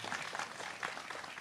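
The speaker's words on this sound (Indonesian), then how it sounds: "Lah tepuk sing banter gak sungkan-sungkan." An audience at an Islamic sermon gathering in Blitar claps loudly, a dense, fairly distant patter of many hands that swells and dips slightly over the short span.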